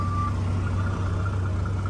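A truck backs up at the Cinnabar Dirt Farm, its reversing alarm beeping loud and steady over a constant low engine rumble, with no one talking.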